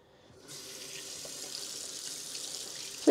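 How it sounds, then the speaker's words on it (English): A kitchen tap turns on and runs steadily into a sink as hands are washed after cooking, a soft, even rush of water beginning after a brief quiet moment, with a sudden clunk right at the end. "Guess what I'm doing now? Wash my hands."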